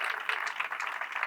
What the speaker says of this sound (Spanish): Pido un fuerte aplauso también para que disfrutes también con nosotros